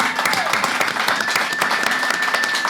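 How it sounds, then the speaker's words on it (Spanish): Applause for Argentine filmmaker Lisandro Alonso at a film festival podcast event, a steady, fairly close patter of many hands clapping for a few seconds. "yo creo que se merece un aplauso"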